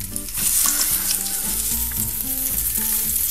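Crucian carp fries in a pan, seasoned with salt and pepper, giving a steady loud sizzle with crackling spatter that carries on without pause for the whole stretch.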